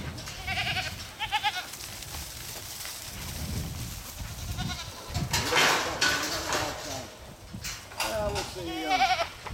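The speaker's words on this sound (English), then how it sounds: "We're gonna feed the goaties, all right?" Goats bleat repeatedly at feeding time on a farm, several wavering calls rising over a steady background while people talk nearby.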